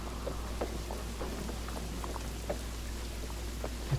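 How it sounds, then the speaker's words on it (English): Steady rainfall in the video game The Oregon Trail (2022), with scattered droplet patters, a constant soft wash of rain at moderate level with no voices. "Oh, god dog it, it's raining."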